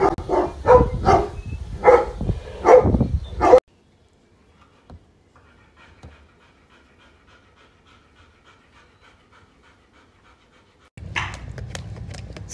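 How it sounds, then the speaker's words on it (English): A dog gives a quick series of five or six sharp, loud barks, then near silence with faint scratchy movement before another burst of noise. "Stop that barking."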